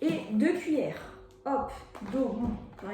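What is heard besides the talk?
No distinct noise like a dog, phone or traffic.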